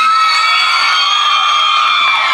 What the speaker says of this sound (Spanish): ¡Aplauso para Iván!